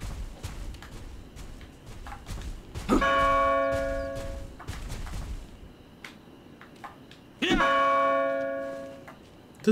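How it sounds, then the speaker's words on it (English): A large bell rung in the video game Majin and the Forsaken Kingdom, two loud resonant clangs several seconds apart, each with a long ringing decay over quiet game ambience. "What if I were to ring the bell?"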